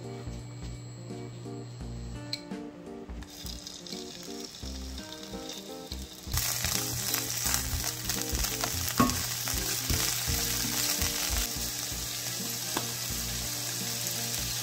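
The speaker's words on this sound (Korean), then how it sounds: "팬이 잘 달궈졌으면 식용유 한 큰술 둘러주시고 새우를 볶아 보겠습니다." Shrimp frying in a spoonful of cooking oil in a hot pan, with a steady close sizzle that grows louder partway through and occasional stirring scrapes.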